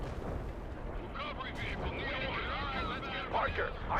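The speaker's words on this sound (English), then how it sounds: "Ivan is calling Run away. artillery barrage on your position." Artillery barrage in the World in Conflict video game, a dense continuous rumble of distant shell impacts and explosions, with radio-style voices talking over it throughout.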